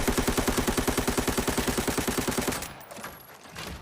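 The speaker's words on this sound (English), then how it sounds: "Now let's just shoot up with these dummies over here" AK-102 rifle firing full-auto at range dummies in Arena Breakout, a rapid steady burst of shots for about two and a half seconds, loud and close, then a fading tail of echo and clatter.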